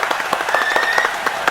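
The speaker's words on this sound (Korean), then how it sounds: "박수 한 번만 좀" A studio audience claps to welcome a guest on a Korean talk show about military careers, a short burst of scattered, close handclaps.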